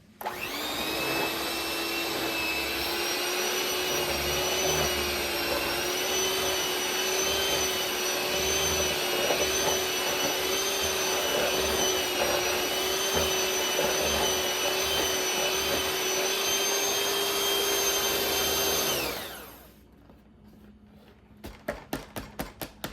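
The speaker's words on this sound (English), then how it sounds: "If you don't got a mixer like this, you can mix it with a spoon." An electric hand mixer whipping a peanut butter cake topping, a steady loud whirring drone with a high whine that runs for about twenty seconds, then shuts off and winds down, followed by a few soft taps.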